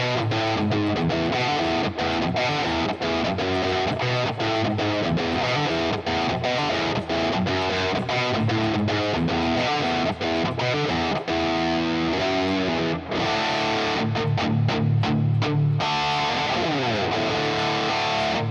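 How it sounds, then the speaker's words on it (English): An electric guitar plays through a crunch patch with reverb, with loud, continuous strummed chords ringing out and then breaking into sharp staccato hits near the end. "that's my crunch patch"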